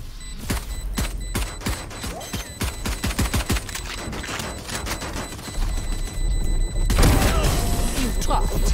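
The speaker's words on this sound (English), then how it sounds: "Swarm grenade out." A swarm grenade detonates in a Valorant match, a rapid burst of sharp, popping blasts stacked close together, with a heavier boom near the end over game noise and some talk.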